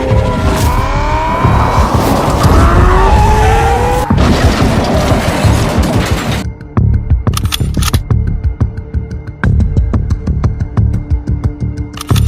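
Ferrari supercar in the GTA 5 video game, loud engine roar with tire squeal and skidding in the first half, then sharper clattering game effects and engine noise continuing to the end.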